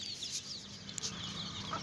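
Local chickens, a hen and chicks among roughly 110 birds, clucking on a small farm, with soft, scattered clucks and chirps over a noisy background and no talk.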